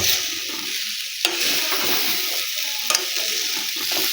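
Maggi noodles stir-fried with potatoes and masala in a pan, a steady frying sizzle broken by a couple of sharp scraping stir strokes, close and fairly loud.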